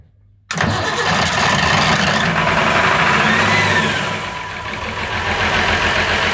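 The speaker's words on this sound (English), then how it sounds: "a cold engine start, and we're going to do the port engine first" A Broom 37 Continental boat's port engine cold-starts abruptly after a brief quiet moment, then settles into a loud, steady, close idle with a slight dip and recovery in level.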